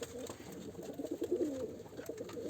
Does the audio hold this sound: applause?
no